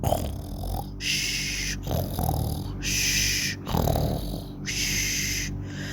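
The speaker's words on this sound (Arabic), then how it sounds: "وصاحبنا التاني نايم في سابع نومة وعمال يشخر" Cartoon snoring effect for a sleeping cockroach in an animated children's tale, four slow rhythmic snore cycles with rumbling inhales and high whistling exhales, loud and alone.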